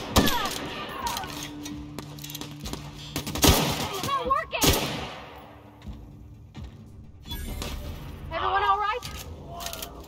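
Rifle fire in The Outer Worlds, a sci-fi shooter game, with loud bursts of shots and metallic clangs scattered among other game sounds and effects, fairly close and dense.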